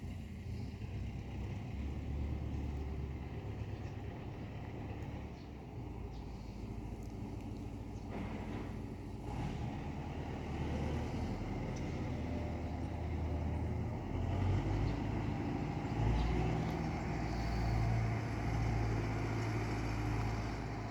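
A vehicle heading off to plough snow gives a steady low engine rumble that builds slightly as it moves, heard at a moderate distance with wind in the background and no talk.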